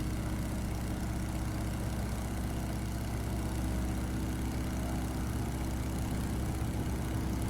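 A Stearman biplane's engine drones at takeoff on the runway as a dense, constant low roar that holds loud and even throughout, with no talking.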